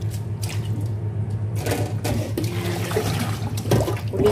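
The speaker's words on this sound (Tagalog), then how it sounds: "Ulitin pa natin siyang hugasan" Water pours and splashes over molokhia leaves in a strainer as they are rinsed, a continuous close gushing with bursts of splattering, no talk.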